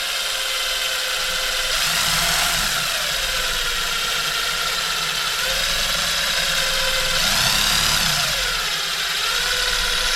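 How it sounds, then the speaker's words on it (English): A power drill bores into metal while rock lights are fitted to a 1989 Jeep YJ, a loud close whine that rises and falls as the trigger is cycled in short bursts. "Just hold pressure on it and just cycle that trigger."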